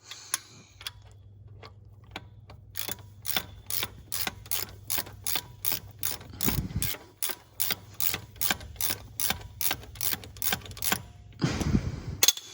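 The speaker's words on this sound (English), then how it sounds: "Start taking these bolts off on the back" A ratchet or impact tool clicks rapidly and steadily while removing bolts from the rear of a worn CV joint on a 2021 Isuzu D-Max, loud and close, with two brief heavier bursts of grinding.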